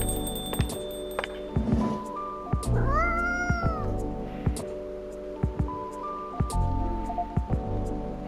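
Several short, high cat meows in the Coffee Talk video game, rising and falling in pitch, scattered between soft plopping taps and gentle background music, fairly quiet with no talking.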